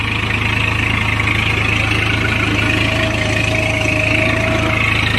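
A Swaraj 855 tractor, a 2019 five-star model, runs with a 2MB plough in a field. Its engine makes a steady, loud, low diesel drone with even vibration and no break, and nothing else is heard over it.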